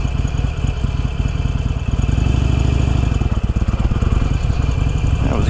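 A motorcycle takes off on the road, its engine loud and close, rising and pulsing steadily under acceleration for several seconds, with no talk over it.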